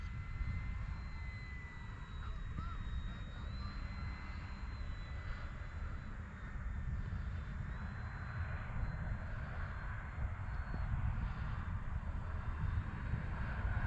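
An MPD Commander radio-controlled model airplane flies overhead, its small engine droning steadily with a shifting whine and rising and falling pitch, accompanied by outdoor wind noise and no talking.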